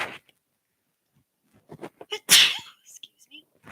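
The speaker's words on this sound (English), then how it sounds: "I feel a sneeze coming." A single sharp, loud sneeze bursts out after a brief sharp inhale, close to the microphone in a quiet yoga session, with a few soft vocal sounds before and after.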